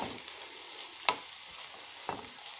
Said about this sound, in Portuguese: vou cozendo o ovo, a cebola e a cenoura ralada bem fininha.